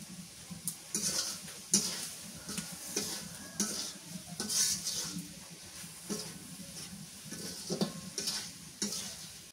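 Potatoes stirred and sautéed in a hot pan for Bengali potato dal, with a steady sizzle under repeated scraping stir strokes, close and moderately loud, no talking.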